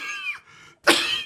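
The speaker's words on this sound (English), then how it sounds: "He sure is coughing a lot." Two bursts of harsh coughing from an ailing man, a short throaty hack followed by a louder, breathier cough, close and clear with a brief pause between.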